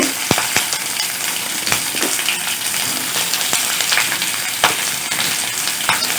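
Two thinly sliced onions fry in hot oil with green chilies, a loud, close, continuous sizzle broken by sharp clicks and scrapes of a spatula stirring in the pan.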